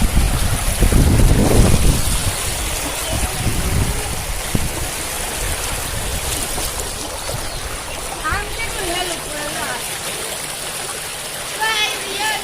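Fast-flowing floodwater rushes loudly and continuously through a village near the old bus station in Datha, with wind noise and occasional voices in the background.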